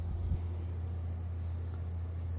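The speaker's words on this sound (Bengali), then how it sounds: "ফ্যানটা চলছে" A small plastic handheld rechargeable fan runs with a low, steady motor hum and faint airy whir, constant and close, with a brief bump near the start.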